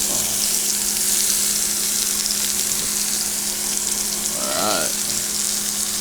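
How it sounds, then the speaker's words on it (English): Peppers and onions sizzle loudly and steadily on a hot grill, with a constant crackling hiss and a brief clatter of stirring near the end. "Go ahead and grill these veggies a little bit."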